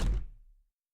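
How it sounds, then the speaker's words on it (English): A door in a visual novel video game shuts with one solid, close thunk that fades out quickly into silence. "I closed the door"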